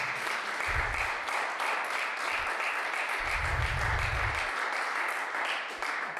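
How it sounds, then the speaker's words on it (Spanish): A church congregation claps hands in steady, dense applause that carries through the whole stretch, with low thumps underneath and no speech. "¿Cuántos le damos palmas al Señor,"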